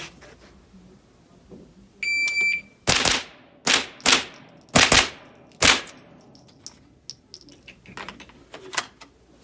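Pistol shots fired in practice drills against a shot timer, with a high electronic timer beep followed by five sharp, loud reports in quick succession and a few fainter impacts afterward.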